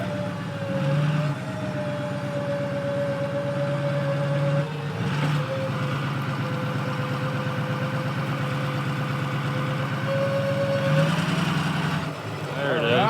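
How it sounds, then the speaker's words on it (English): A Jeep engine revs steadily in reverse with its wheels spinning, a sustained mid-pitched drone that holds for about ten seconds, dips briefly near the middle and swells again toward the end, with a voice talking over it. "Okay, put it in reverse and just barely spin your wheels."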